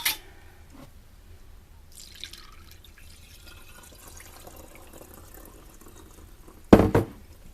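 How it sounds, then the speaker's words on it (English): Herbal thieves vinegar is strained into quart-sized jars, giving soft trickles and drips in a quiet room, then a brief, louder splash near the end. "I'm going to strain them into some quart-sized jars"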